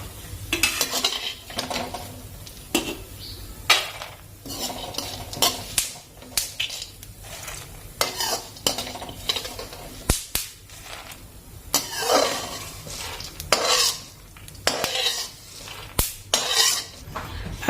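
Seeds roast in a kadhai under steady stirring, the spoon scraping and clinking against the metal in irregular bursts over a faint sizzle, close and fairly loud.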